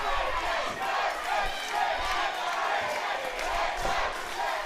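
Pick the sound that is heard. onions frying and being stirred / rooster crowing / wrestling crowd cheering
wrestling crowd cheering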